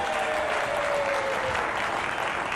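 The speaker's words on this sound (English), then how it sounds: "I was hoping for a huge round of applause" A crowd claps steadily in sustained applause, a dense, even patter of many hands with no talking over it.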